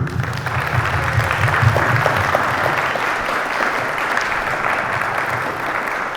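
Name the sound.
audience round of applause at premiere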